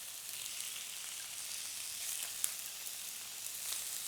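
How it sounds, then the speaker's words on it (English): Thin slices of beef sizzle steadily in a hot pan for beef udon, a soft, even hiss with a faint crackle and one small pop, quiet and close with no talk. "I want to give it a really quick saute, and then straight in with my slices of beef."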